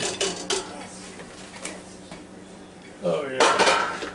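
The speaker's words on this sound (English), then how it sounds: "there's nothing wrong with this Power Fryer XL here. Dump them out there if I can." Food is dumped out of a Power Air Fryer XL basket, giving a few clattering metallic knocks and scrapes of the basket against dishes, with a louder rattle near the end.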